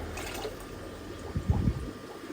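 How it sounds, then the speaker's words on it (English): Water is drawn down from a home aquarium holding bristlenose pleco fry, a quiet hiss followed by a brief burst of gurgling, splashing liquid near the end. "So I'm just going to take the water level down a little bit."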